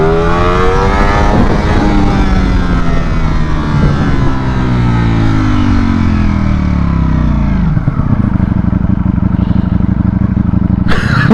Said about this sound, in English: Let's burn in this tire real quick.